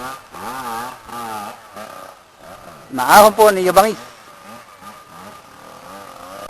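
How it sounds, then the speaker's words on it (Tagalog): A dirt motorcycle climbs a steep trail uphill, its engine revving hard in a loud surging burst midway, with an engine droning before and after under continuous talk from a commentator. "Ang lakas ng motor."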